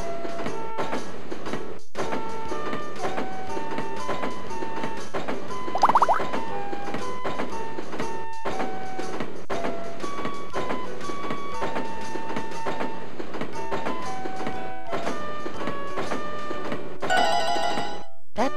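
In the Blue's Clues V-Smile video game, a cartoon train arrives with chugging rhythmic beats and a bright melodic jingle of repeated tones, punctuated by a short whistle-like burst and a chime at the close.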